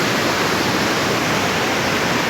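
Rushing river water at a sightseeing and fishing spot in Batkhela, Malakand, Pakistan, a steady loud broadband roar of flowing water running unbroken throughout with no voices.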